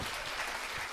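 A studio audience at a Korean talk show claps in a steady burst of applause that fills the whole moment, with no voices over it.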